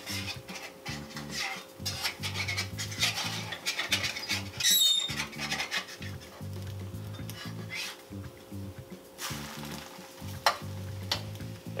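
A flipped omelette sizzles steadily in a pan, with recurring scrapes and light clinks of a utensil against the metal throughout, plus a brief sharper rattle partway through.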